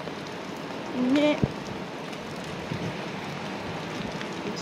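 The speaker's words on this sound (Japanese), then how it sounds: "結構雨降ってんの" Steady rain falls outdoors near Odaiba, Tokyo, a broad constant hiss on surfaces throughout, with a brief short spoken word and a sharp knock early on.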